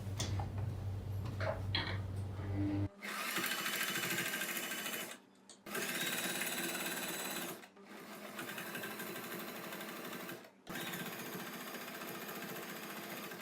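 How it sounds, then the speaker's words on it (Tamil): A sewing machine stitches a net kurti neck in three long, loud, steady bursts of rapid mechanical chatter, separated by brief pauses, after a short stretch of quieter handling at the start. "இப்போ தையல் தைச்சிடலாம்."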